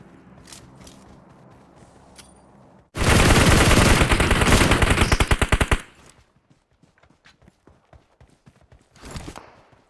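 Rapid automatic gunfire in the mobile battle royale game PUBG Mobile, a loud sustained burst of about three seconds, followed by scattered lighter clicks and footsteps and one short later burst.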